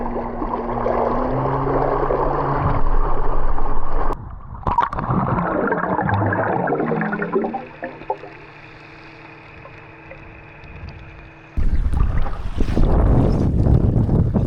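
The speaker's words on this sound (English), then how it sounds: "I'm going to jump back on the sea bob" A Seabob water scooter drones steadily while cruising through sea water, with a motor whine, splashing, gurgling and wind buffeting on the microphone. The noise drops to a quieter hum partway through, then surges back loudly near the end.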